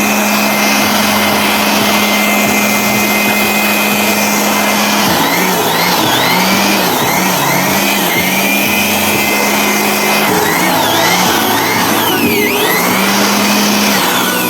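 An electric blower roars steadily and loudly nonstop while blowing dust out of a bedroom, its pitch dipping and swelling in short waves as it is moved around.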